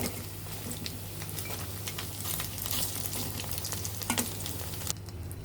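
Kachki fish fritters sizzle and crackle in hot oil, a steady close frying hiss with occasional louder pops and stirring.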